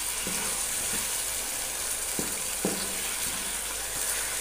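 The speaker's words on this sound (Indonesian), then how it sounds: "Kita masukkan daun salamnya, juga garamnya. Aduk terus sampai layu" Bay leaves and salt stirred in hot oil in a pan, a constant bright frying hiss with a few faint spoon taps and scrapes scattered through.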